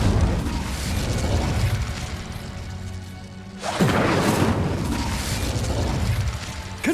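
Blasting-spell explosions from a wizarding action game (Hogwarts Legacy) erupt as loud noisy bursts, one striking sharply midway and followed by a rumbling crash and debris, with no voices heard.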